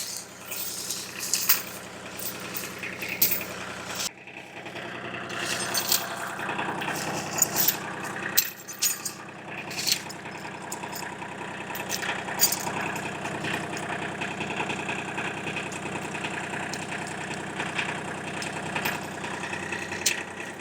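A tractor engine idles with a steady low rumble continuously throughout, with occasional clanks and knocks over the top and no talking.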